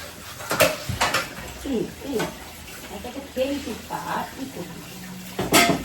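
Water runs and splashes as a sink basin is washed, with clattering knocks and scrubbing at the start and end while a person speaks over it.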